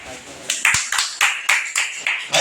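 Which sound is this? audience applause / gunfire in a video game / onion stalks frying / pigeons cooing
audience applause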